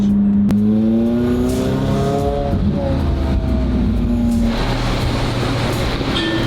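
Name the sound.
car driving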